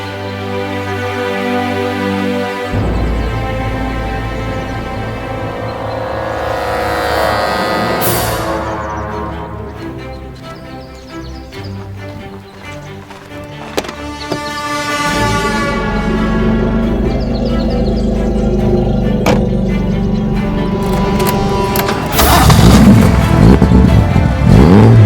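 A Nissan Skyline GT-R KPGC10 engine climbs toward 7,000 RPM, its loud revving note rising and falling through several sustained pulls up close with no talking.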